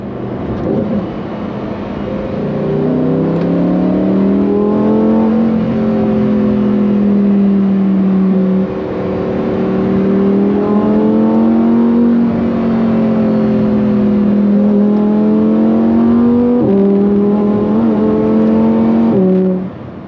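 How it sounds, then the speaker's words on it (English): A Lamborghini Huracan STO's V10 engine revs hard in a lower gear, pitch climbing and dropping through several loud, close sweeps with brief lifts between them, heard from inside the car. "putting in a lower gear and just listening to it rev is so much fun"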